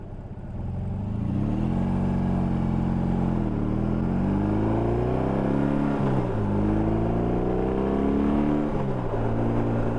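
A BMW R18 Transcontinental motorcycle accelerates through the gears, its deep engine note climbing in repeated rising sweeps, steady and close from the rider's position.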